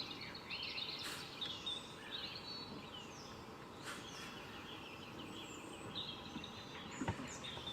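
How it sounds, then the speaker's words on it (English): Faint bird chirps and calls from birds on a roof, scattered high tweets over a quiet, hissy background with a few brief louder notes. "And birds on the roof."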